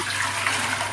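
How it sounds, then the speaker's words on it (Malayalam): Water is poured into an aluminium pot for boiling, a steady, close rushing splash that runs without a break and stays at an even level. "ഇനി അതിനകത്ത് വെള്ളം ഒഴിച്ച് നന്നായിട്ട് തിളപ്പിക്കണം"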